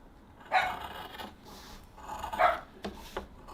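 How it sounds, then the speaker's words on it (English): A dog barks in the background, two or three muffled, moderately distant barks spaced about two seconds apart, with quieter shuffling between them. "that's my dog barking in the background"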